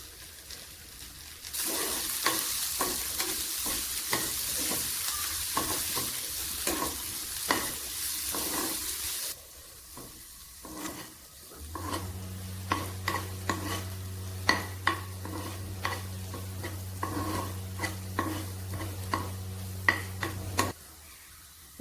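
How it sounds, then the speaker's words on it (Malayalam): Dal tadka ingredients being stirred and sautéed in a pan for a Kerala-style moong dal: steady sizzling frying with repeated scraping stir strokes, then a low hum under continued stirring clinks, close and fairly loud, no talking. "എല്ലാം കൂടി ഒന്ന് ഇളക്കി വഴന്നു വരണം."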